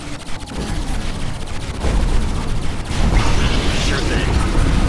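Rapid bursts of gunfire and booming explosions from a Command & Conquer 3: Kane's Wrath battle against Brutal AI opponents, dense and continuous with mechanical unit noise, while radio-style unit voices call out over the din.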